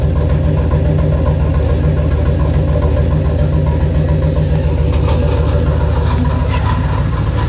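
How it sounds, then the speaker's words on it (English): A 1981 Lincoln Continental Mark VI engine idles steadily with a deep, throaty exhaust rumble, loud and close, holding an even drone throughout. "That exhaust sounds mean, though."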